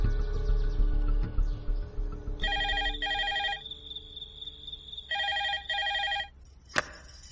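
A telephone rings indoors in repeated double bursts, two pairs of electronic trills separated by a pause, fairly quiet, after some low background noise.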